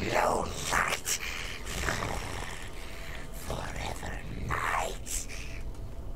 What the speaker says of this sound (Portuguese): Ele tá rosnando.